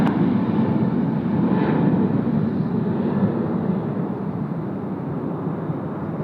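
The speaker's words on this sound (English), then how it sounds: "There we go, off to Bali." A Jetstar airliner taking off from Sydney Airport bound for Bali: a loud, steady jet engine roar that holds throughout and eases slightly toward the end.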